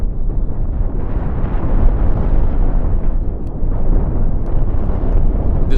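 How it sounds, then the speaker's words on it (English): Missiles and explosions rage through a Star Wars Republic versus Separatist fleet battle in the space game Cosmoteer, a loud continuous rumbling roar of blasts with a few sharper pops near the end, no voices. "It is unleashing hell with missiles that are just being flung all over the place."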